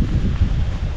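Wind gusting outdoors across a bitter gourd (ampalaya) field, a steady low rumbling buffeting that dominates the short stretch, with no talk.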